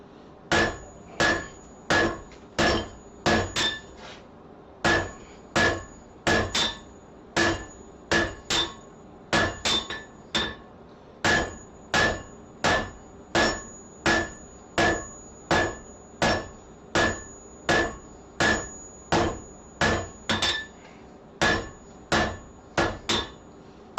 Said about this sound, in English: go over there to the power hammer